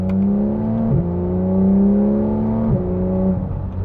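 A Porsche 911 GT3 of the 991 generation, exhaust flaps open, sends out a loud, steady engine drone from close by. Two quick dips in pitch break the drone before the engine settles again.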